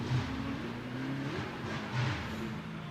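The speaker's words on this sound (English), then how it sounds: "You can hear by the exhaust note a little bit of struggle there for Carlton McDonald" A Spec-D race car at Mission Raceway during qualifying, heard from a distance, with an uneven, wavering engine and exhaust tone that surges briefly twice over a steady background hum.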